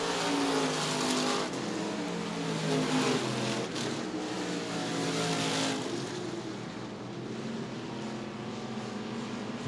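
Stock cars racing door to door at Murray County Speedway, a loud, sustained roar of engines at full throttle that swells and fades slightly as the pack sweeps past, no voices.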